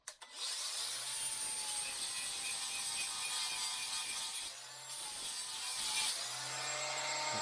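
A cordless sander fitted with a 60 grit pad works the repaired cargo floor of a VW T2 campervan under restoration, a continuous loud abrasive whir with a constant motor hum, briefly easing off midway before resuming close up.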